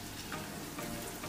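Prawn curry masala sizzles and fries steadily in a pan as water is poured in, a continuous close hiss with faint stirring scrapes and no talking.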